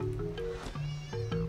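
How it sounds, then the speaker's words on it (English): A baby Acrocanthosaurus in the Path of Titans video game gives a short, high, kitten-like mewing call, two or three wavering cries close up over a faint background hum. "Why does he sound like a kitten?"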